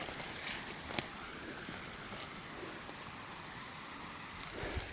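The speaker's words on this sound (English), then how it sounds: "Sounds like people talking down here. There's people could be here, but it could also just be the creek." A creek flows steadily through thick brush, giving a constant broadband rush with a few faint knocks and rustles over the top and no voices.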